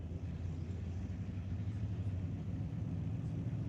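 At a drag raceway, a little Plymouth and a 1971 Chevelle rumble with low, steady engine noise heard from a distance, without any sharp revs.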